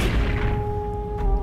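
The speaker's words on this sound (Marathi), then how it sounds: "तोफा पेटवल्या गेल्या." Cannon fire booms in a staged Pavankhind battle scene for a Ganesh Chaturthi display, a heavy blast at the start that rolls away under a steady droning tone.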